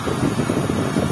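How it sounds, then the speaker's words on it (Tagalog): Heat gun blowing hot air onto a Honda Beat scooter fairing, a steady, loud whooshing fan-and-air roar held close throughout with no pause. "Sa heat gun, tignan mo, ang bilis oh."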